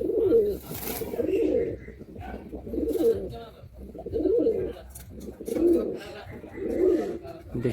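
Andhra and Madrasi pigeons coo in a loft, a close, deep, rolling coo repeating roughly every second in regular pulses, with faint background noise between calls.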